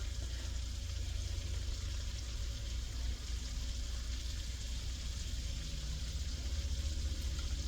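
Boiled eggs fry in a pan over medium heat with a steady, soft sizzle and faint bubbling that continues evenly throughout.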